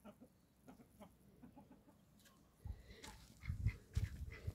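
Chickens cluck softly in short, scattered calls in an orchard, growing a little louder and busier toward the end, with faint outdoor background.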